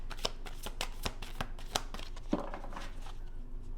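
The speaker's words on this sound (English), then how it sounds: "I've shuffled these cards" Tarot cards being shuffled by hand in a series of rapid riffling bursts and soft slaps, close and fairly loud, with no talking.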